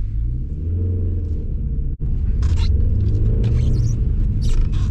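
A car pulls away and accelerates during a driving lesson with a deep, steady engine rumble close inside the cabin. A brief dropout comes midway, and a few light clicks and rustles sit on top.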